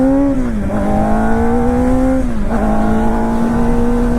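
Kawasaki Ninja ZX4R motorcycle engine held at a loud, steady high-revving whine, its pitch dropping twice as the rider attempts downshifts, with no talk.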